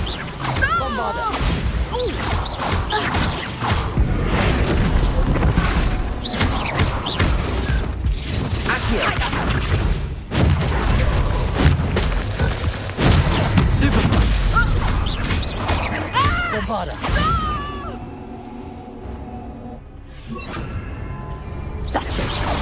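Bombarda blasting spell explosions in Hogwarts Legacy, with repeated booms, crashes and whooshes in chaotic combat, among voices and game effects, quieting near the end.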